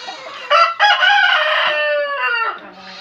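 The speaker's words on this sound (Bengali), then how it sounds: "এই পাশটাতে কিন্তু যে আবার কিছু সোনালি মুরগির বাচ্চা আছে, কিছু মোরগও আছে" A Sonali rooster crows once nearby, a loud drawn-out call that rises sharply, holds, then trails off, standing alone against a quiet background.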